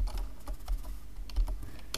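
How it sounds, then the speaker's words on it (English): Typing on a computer keyboard in a classroom-style setting, a quick irregular run of close, light key clicks spread across two seconds with no talking. "I'm going to type keyboard"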